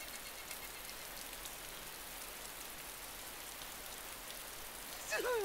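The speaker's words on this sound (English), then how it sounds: "It's fucking raining." Steady rain pours down in the survival game DayZ, a dense, even hiss of falling drops that holds throughout at moderate volume, with a brief brighter sound at the very end.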